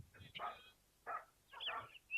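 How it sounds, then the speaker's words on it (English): A dog barks a few times at a distance, faint short yips spaced apart against a quiet background. "You hear the neighbor's dog barking"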